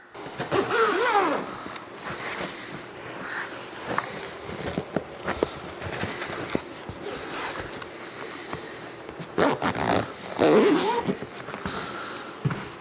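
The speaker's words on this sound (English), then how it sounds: "And then you can start zipping the rest of it up. Just follow the zipper." Repeated zipping runs along a fabric enclosure for a 3D printer, with rustling cloth and handling noises between pulls, close by and fairly loud.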